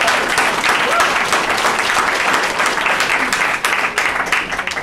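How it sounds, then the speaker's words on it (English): An audience at a talk about deportation flights gives a loud, dense round of applause that holds steady for several seconds with no voices on top. "That deserves a round of applause."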